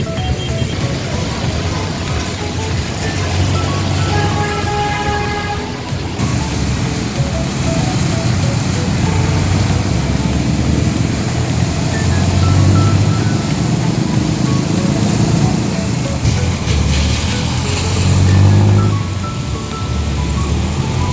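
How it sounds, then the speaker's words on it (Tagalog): A jeepney ride through flooded city streets near Roxas Boulevard, with a loud, continuous engine rumble and traffic noise, occasional tonal beeps and rushing swells. "So yun guys, nakasakay na tayo ng jeep."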